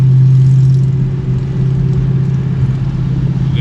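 A Dodge Challenger Hellcat Jailbreak with a new exhaust drives past close and loud, its deep engine droning steadily with a rumbling low exhaust note and slight surges, with no talking.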